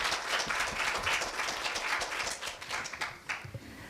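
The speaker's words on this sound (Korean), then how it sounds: "다시 한번 격려의 박수." Steady crowd applause after a student speech at a middle school speaking festival fills the whole stretch, dense and even, tapering slightly toward the end with a few louder individual claps.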